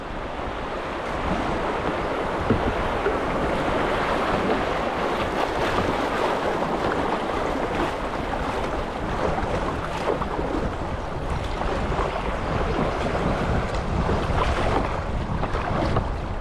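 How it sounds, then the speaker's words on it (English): River rapids splash and roar continuously near a dam on a hot day, a loud, dense, unbroken wash of churning water close by, with no voices. "Kind of nice to enjoy the splash from the rapids"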